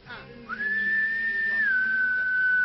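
A person whistles a sustained tone with a brief step down near the end, and a small gadget that responds to whistles answers, clear and close against a faint background of voices.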